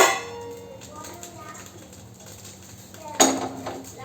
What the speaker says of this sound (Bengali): এখানে কড়াই বসিয়ে দিচ্ছি